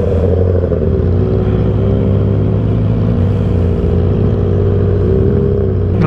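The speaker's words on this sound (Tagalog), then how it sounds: "Kaso ingay kasi ng motor ko eh." Honda CBR650R motorcycle running at speed on an expressway, a loud, continuous engine drone with layered harmonics and steady wind rush that holds constant, with slight pitch shifts near the end.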